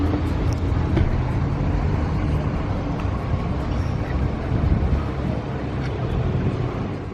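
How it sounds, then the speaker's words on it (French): A Rolls-Royce Ghost V12, a 2021 model, runs as a steady broadband rumble with strong low-frequency drone and wind-like noise throughout, continuous and fairly loud outdoors in Monaco. "le V12 est lancé"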